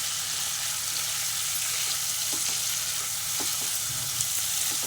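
Eggs sizzle and fry steadily in a hot pan with garam masala, with scattered scraping clicks as they are stirred; no one speaks.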